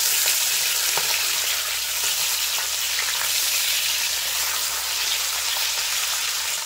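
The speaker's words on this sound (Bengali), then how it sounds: "এবার মাছগুলো উল্টে দেবো, এক সাইড ভাজা হয়ে গেছে।" Flipped small bata fish keep frying in mustard oil, a dense, steady, loud sizzle and spatter holding evenly from start to finish with no voices.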